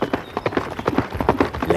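Horse hooves clip-clop in a steady, close rhythm, with repeated sharp knocks through the short stretch and no voices.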